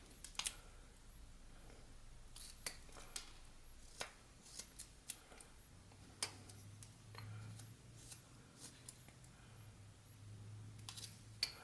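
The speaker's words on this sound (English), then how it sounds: "I'm going to kind of come in here and just whittle up to that. Make a little stop cut right up to that nose." A knife whittles a stop cut into a small wooden carving of a hillbilly figure, making faint, sparse clicks and short scraping ticks at an irregular pace against a quiet background.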